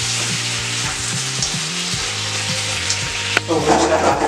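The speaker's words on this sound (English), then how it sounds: "So we'll just let that fry up there for a few seconds." Stir fry sizzles steadily in a hot pan, a dense crackling hiss with a brief clack from utensils near the end and a louder burst of spitting afterwards.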